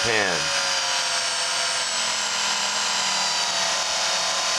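Work Sharp electric knife sharpener running under speed control, whining as a steady, loud motor tone that winds up quickly at the start and then holds a constant pitch.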